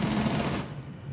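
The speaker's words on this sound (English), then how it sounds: "there's somebody shooting something" Rapid automatic gunfire in Rainbow Six Siege, loud and close, a dense burst that fills the first half-second and then trails off into a lower, rumbling tail.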